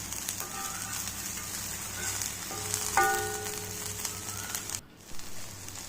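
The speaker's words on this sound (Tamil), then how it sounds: "எல்லா சைடும் திருப்பி போட்டு ஃப்ரை பண்ணிக்கோங்க." Paneer pieces fry in hot oil, turned over on every side, giving a steady close sizzle and crackle with a few faint clinks of a utensil against the pan.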